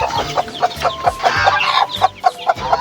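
Chickens on a small farm raising newly hatched chicks cluck in a quick, rhythmic series of close, clear notes, with overlapping calls from several birds and no talking.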